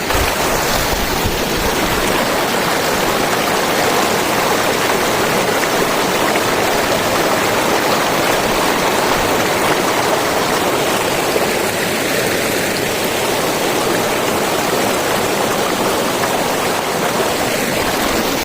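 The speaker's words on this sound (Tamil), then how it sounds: "மலை மேலே இருந்து தண்ணி வர்றது." Loud, steady rush of mountain water pouring and tumbling at Puliyancholai falls in the Kolli Hills, a constant roar with no pauses, heard up close.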